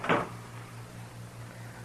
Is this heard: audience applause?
no